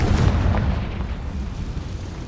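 A Confringo fire spell explodes in the Hogwarts Legacy video game with a loud, rumbling blast that booms up front and then decays into a lingering low roar.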